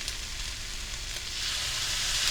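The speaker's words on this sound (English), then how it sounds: "You can probably hear the sizzle more than you can my voice" Teriyaki sauce sizzles and fries in a hot pan, a steady, bright hiss that swells slightly louder toward the end, with no voices.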